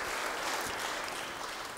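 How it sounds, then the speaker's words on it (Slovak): An audience applauds an award winner in the international cooperation category at a science awards ceremony, the clapping a steady, sustained wash of many hands with no break. "To bol potlesk pre oceneného v kategórii osobnosť medzinárodnej spolupráce"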